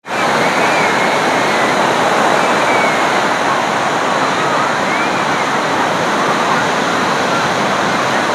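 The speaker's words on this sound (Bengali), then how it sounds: "তো চলো দেখি বিচের কেমন ঢেউ আসছে, দেখা যাক।" Ocean surf on the beach at Visakhapatnam, a loud, continuous roar of breaking waves with no pauses, close and steady throughout.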